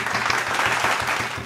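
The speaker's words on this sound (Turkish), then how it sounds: "Alkış yap sen de. Sen de yap alkış." Steady applause from a small group at a birthday celebration, close and continuous, with a light rhythmic tapping running underneath.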